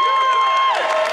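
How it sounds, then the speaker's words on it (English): Crowd cheering and whooping at an Army combatives tournament of mixed martial arts bouts at Camp Hovey, loud and continuous, with a sustained shout or whistle running through the noise. "And of course, a crowd cheering them on."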